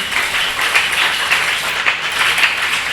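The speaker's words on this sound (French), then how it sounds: "Est-ce qu'on peut acclamer très fort pour la gloire de Dieu?" A church congregation at a worship service applauds loudly and continuously, a dense wash of clapping with occasional louder swells and no clear speech.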